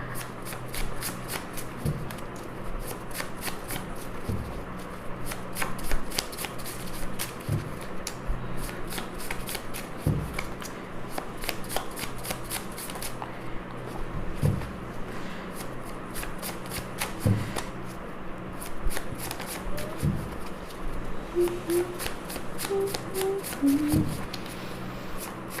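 Tarot cards shuffled steadily and up close for a long stretch, a continuous riffling patter with occasional soft thumps and faint talk underneath.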